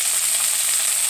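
Drumsticks fry in a pan with a loud, even, continuous sizzle and hiss throughout.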